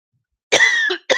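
Two sharp coughs close by, a longer raspy burst followed by a short second one after a brief pause.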